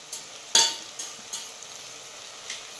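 Masala spices fry in oil in a pan over a soft background sizzle, broken by a few sharp scrapes and taps from a spoon stirring them.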